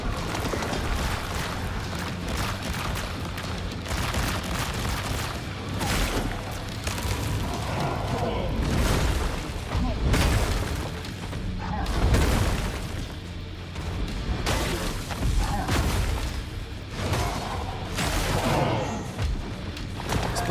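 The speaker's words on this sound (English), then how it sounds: "Not the exploding brain again." An exploding brain attack in the Mortal Shell 2 video game goes off again and again as heavy booms and bursts. The loud blasts repeat across the whole stretch with no gap between them.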